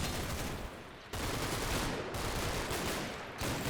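Dense, continuous small-arms fire from soldiers in the WWII video game Combat Mission: Battle for Normandy, a steady crackling fusillade that fills the whole stretch with brief dips, no voices.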